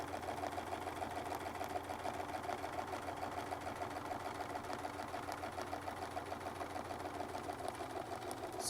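A sewing machine runs quietly and steadily while quilting with a Westalee ruler, its rapid needle chatter holding an even rhythm throughout with no talk.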